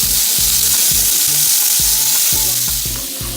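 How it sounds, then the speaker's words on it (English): Shrimp sizzle loudly in hot grapeseed oil in a pan, a dense, constant, close frying hiss broken by repeated clinks and taps from a utensil. "the shrimp are sizzling along"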